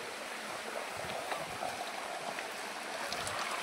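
Cold mountain stream water flowing steadily on a hillside at Parasnath, Jharkhand, a continuous broadband rushing wash that stays even and fairly close throughout.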